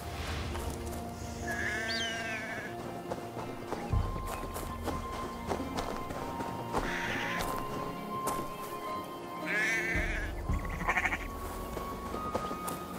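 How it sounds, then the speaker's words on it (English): Sheep bleat in the video game Assassin's Creed Valhalla, several wavering bleats over hoof clip-clops and outdoor game ambience, moderately loud and repeated across the scene. "The sheep follows my whistle."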